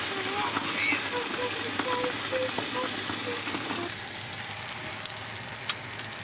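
Food frying in a hot pan inside a camper van, a steady broadband sizzle that fades somewhat partway through, with faint voices and light clatter in the background.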